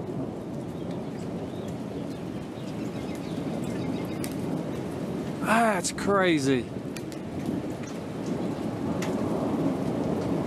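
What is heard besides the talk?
thunder during storm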